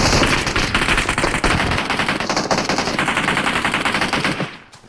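Rapid automatic gunfire in the mobile battle royale game PUBG Mobile, a dense, loud burst of repeated shots running almost nonstop before cutting off near the end.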